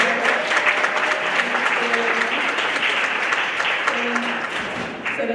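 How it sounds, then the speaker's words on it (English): Sustained audience applause fills a conference breakout session on women and homeownership, many hands clapping in a dense, even roar that eases slightly toward the end, with faint voices underneath. "Can we give a round of applause for that?"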